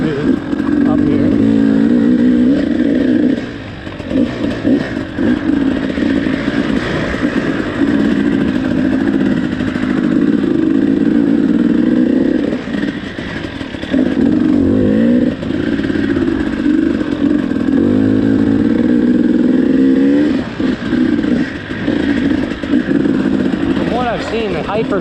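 Dirt bike ridden along a heavily rutted trail, its engine droning loud and close for the whole stretch, with revs surging and dropping as it works through the ruts and some clattering over the bumps.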